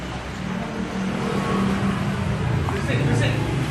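Kawasaki Z900 motorcycle with an SC Project exhaust, a low rumbling idle that swells slightly as it revs, with people talking over it.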